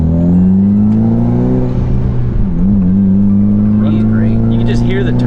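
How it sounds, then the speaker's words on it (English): A Mitsubishi Lancer Evolution IX engine with an upgraded turbo hums and rises in pitch as it revs, with a turbo whistle layered on top and people talking over it. "Just hear the turbo."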